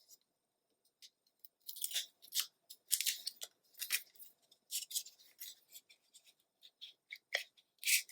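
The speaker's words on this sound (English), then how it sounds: "So I think I need to cut off about a quarter inch." Scissors trimming paper for a scrapbook mini album, a quick close run of crisp snipping cuts, irregular and quiet, with brief pauses and no talking.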